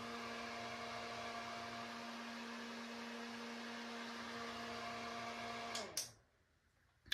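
A hair dryer blows steadily at close range to dry wig glue, a constant whirring hum for about six seconds before it switches off and winds down.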